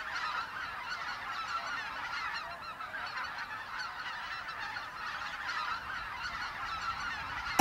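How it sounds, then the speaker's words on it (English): A large flock of geese returning from feeding at Lake Miyajima, Hokkaido, honks continuously at a distance, a dense overlapping chorus of calls at steady loudness with no talking. "the geese return from feeding."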